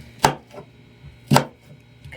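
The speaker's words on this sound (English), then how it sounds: "I am gonna chop this onion." An onion chopped on a cutting board: two sharp, close knife strikes about a second apart, each followed by a softer tap, with quiet room tone between.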